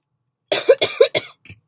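A short burst of several coughs close to the mic, four or five rapid hacks in a row and a softer one trailing after.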